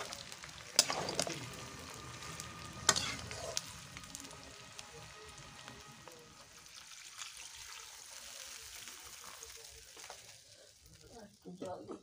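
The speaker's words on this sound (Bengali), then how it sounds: "ঢাকা দেওয়ার পরে কিন্তু এর মধ্যে জিরের গুঁড়ো আর লঙ্কার গুঁড়ো দিয়ে দিচ্ছে মা, তো উনানে রান্না হচ্ছে" Duck meat curry cooks with cumin and chili powder in a covered pot on a traditional stove, giving a steady close sizzle and bubbling with a couple of sharp clatters early on.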